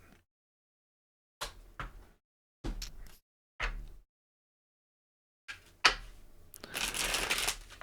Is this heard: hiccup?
no